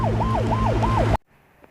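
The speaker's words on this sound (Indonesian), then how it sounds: "para penjaga membawa Chang-ho ke rumah sakit menggunakan ambulans" An ambulance siren wails in a loud, close up-and-down sweep over engine rumble, then cuts off abruptly after about a second, leaving near silence.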